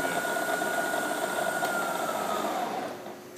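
A Fryer 3-axis CNC bed mill motor spins at high variable speed, giving a steady, close high-pitched whine with tonal hum that drops off as it slows near the end.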